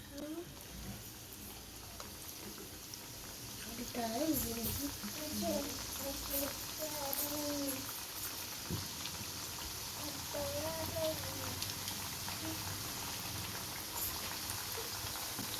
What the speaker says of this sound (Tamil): இதே போல் எல்லாத்தையும் பொரித்து எடுத்துக்கலாம்.